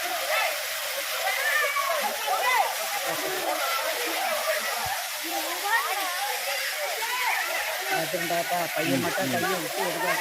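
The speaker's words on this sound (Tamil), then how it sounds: "அருவி தண்ணியில் குளிக்க போகிறோம்" Waterfall at Kolli Hills with a steady broadband rush of falling water over a crowd of bathers, voices and shouts mixing continuously with the splash throughout.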